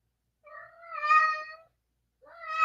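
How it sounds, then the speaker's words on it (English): A domestic cat meows twice, close and clear: a longer drawn-out call, a short pause, then a second meow rising at the end, with no talking. "The cat."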